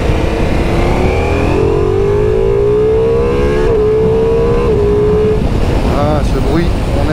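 A Ducati Multistrada V4 motorcycle engine pulling hard in second gear, its loud, rising drone climbing smoothly in pitch before easing off, with rushing wind noise close by throughout.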